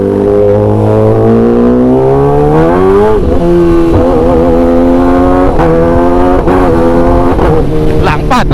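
Kawasaki ZX-10R superbike ridden on a wet road, its exhaust roaring loud and close as the engine revs rise and fall in repeated sweeps through the gears.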